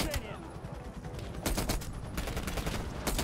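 Gunfire in Call of Duty Black Ops Cold War during a Vietnam mission: rapid automatic bursts and volleys of shots, fairly close, with a louder stretch of firing in the second half.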